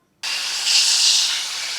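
Dried fish (karuvadu) hits hot oil in a pan with a sudden loud hiss that swells briefly and then holds as a steady bright sizzle.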